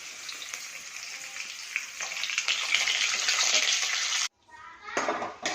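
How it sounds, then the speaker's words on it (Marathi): Onion added to a hot pan with garlic while cooking a wild leafy vegetable dish, a sizzling, watery frying hiss that swells after a couple of seconds, breaks off abruptly, then returns. "त्यानंतर आपण टाकणार आहोत कांदा"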